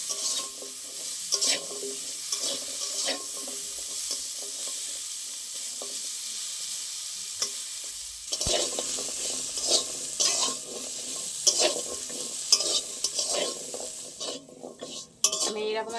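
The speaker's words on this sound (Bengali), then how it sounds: "আমি এরকম একটু কড়াইয়ে নেড়ে নিয়েছি" Boiled jackfruit seeds are stirred in a dry wok with a little leftover oil, giving a soft sizzle broken by irregular scraping and clinking of a utensil against the pan, with louder bursts of stirring later on.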